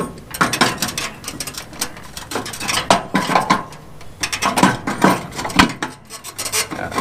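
A metal shaft is worked down through the centre of a cracked Murray mower mandrel, giving loud, irregular metallic scraping and grinding rubs in repeated bursts, close and without talk.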